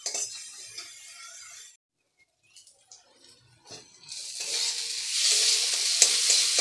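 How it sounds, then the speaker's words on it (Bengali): Bengali spice paste being fried down in oil in a home kitchen until the oil separates, a bright sizzle with stirring scrapes that fades briefly near the middle and then swells louder and steady toward the end, with no talking. "মশলাটাকে এবার কষাতে হবে যতক্ষণ না তেলটা ছেড়ে আসে"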